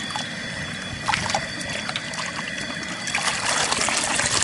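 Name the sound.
chicken being dunked and moved in hot water for plucking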